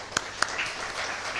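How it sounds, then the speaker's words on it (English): Forum audience applauding themselves at a procurement forum: two sharp, separate claps open, then a soft, thin wash of scattered clapping in a room. "I think we should actually applaud ourselves."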